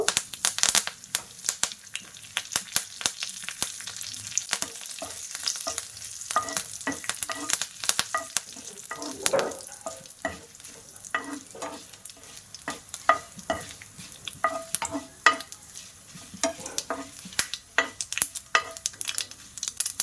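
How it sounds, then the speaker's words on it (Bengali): Mustard seeds and curry leaves crackle and pop in hot oil for tempering, a busy run of quick irregular spits and sizzles with occasional stirring scrapes, heard close and fairly quiet throughout. "তেলটা গরম হয়ে গেছে। এবার আমি কিছুটা সরিষা দিয়ে দেব, আর একটু কারি পাতা দিয়ে দেব।"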